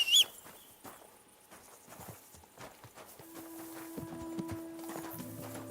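Horse hooves clip-clop in the video game Kingdom Come 2, a quiet irregular walking patter on a town street with faint ambient insects and a soft rising musical tone.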